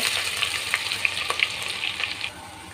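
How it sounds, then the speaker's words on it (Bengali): Onions frying in oil in a pan for beef biryani, a continuous bright sizzle with occasional stirring scrapes and pops, close and steady before quieting near the end. "পেঁয়াজটাকে গোল্ডেন কালার করে ভেজে নেব"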